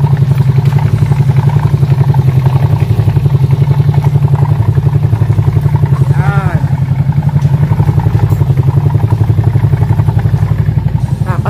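A scooter engine idles steadily with a constant low drone, carrying an irregular rattling clatter from a faulty CVT transmission; a brief whine rises partway through.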